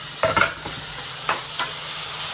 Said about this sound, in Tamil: இப்போ நெக்ஸ்ட் வந்து தக்காளி போட்டுக்கலாம்